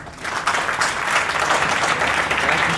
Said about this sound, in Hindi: आप ताली बजा दीजिए